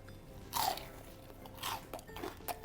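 Crispy Taiwanese XXL fried chicken bitten into close up, three sharp crunches spaced about a second apart, then quieter chewing, with no talk.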